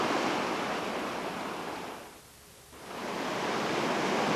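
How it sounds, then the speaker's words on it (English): Whitewater on the Ocoee River rushes in a dense, steady roar that dips briefly in the middle and then swells back to full strength, with no voices. "Next up, Table Saw Rapid, the fastest, most powerful rapid on the Ocoee"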